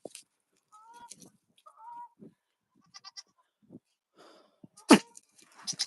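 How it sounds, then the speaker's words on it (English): Farmyard animals call in short scattered bursts, with honking cries among goat bleats on a quiet goat farm, sounding close and intermittent and ending in a louder, harsh call. "There's Maverick, and there is Mr. Goose."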